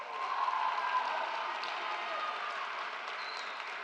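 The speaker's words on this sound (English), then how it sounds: "Let's give them a round of applause." A graduation ceremony audience for a high school class gives a round of applause, with steady, dense clapping from a large crowd that fills the hall evenly throughout without pause.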